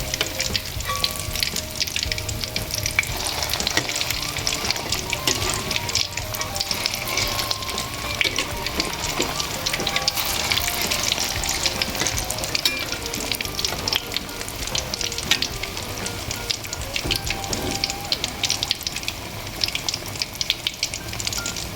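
Noodle dough balls deep-frying in hot oil, a dense, steady sizzle and crackle that runs unbroken throughout, close and fairly loud with no talk over it.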